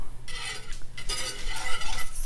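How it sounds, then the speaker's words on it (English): Close, steady hiss and crackle of mushrooms frying in a hot pan, with occasional scrapes of a utensil stirring. "this is sizzling very nicely"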